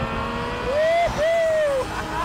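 A turbocharged sports car engine revs flat out through the gears, its tone climbing in two sustained rising pulls toward an 8,900 RPM red line, loud and close, with a brief dip at the shift between them.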